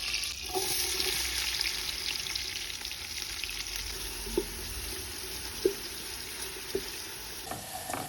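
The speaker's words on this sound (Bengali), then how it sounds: "দেন আমি চুলায় প্যান বসিয়ে এর মধ্যে তেল এবং এক টুকরো বাটার দিয়ে পেঁয়াজগুলোকে ভালো করে ব্রাউন করে ভেজে নিব" Onions frying in oil and a piece of butter in a pan on the stove for beef biryani, a steady close sizzle with occasional sharp pops and the scrape of stirring, no talk.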